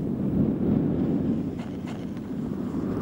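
Icy wind on a mountain ridge rushes steadily in a broad, low roar with faint gusting texture, continuous and fairly loud, with no voices.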